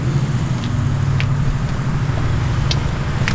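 A 2015 Can-Am Spyder F3 idles with a steady, continuous low rumble at close range, holding an even level throughout with no voices over it.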